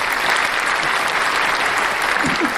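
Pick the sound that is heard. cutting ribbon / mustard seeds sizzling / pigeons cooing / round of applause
round of applause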